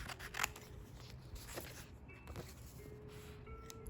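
Scissors snipping stickers down to size, a few soft, close crisp cuts spread unevenly over quiet room tone with faint handling noise.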